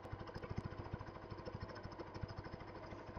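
A motorbike engine idling before setting off on a trip, with a steady, fast, low chugging pulse, fairly close and quiet, and no speech.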